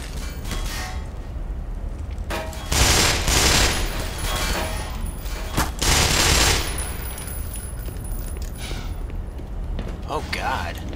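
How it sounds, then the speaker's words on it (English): Bursts of machine gun fire in the first-person shooter Black Mesa, several loud rattling volleys clustered across the middle, with a voice talking over parts of it. "Sniping with a machine gun."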